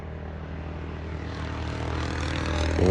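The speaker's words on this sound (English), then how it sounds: "Some guy's rushing home on his motorcycle" A motorcycle approaches on a road on a stormy evening in the Okanagan Valley, its engine hum swelling steadily from distant to near with no break.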